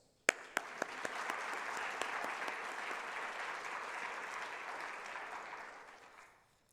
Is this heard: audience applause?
yes